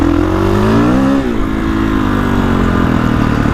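A 2021 Kawasaki KX450X dirt bike engine revs loud and close while riding, pitch climbing and then dipping before settling into a steady drone.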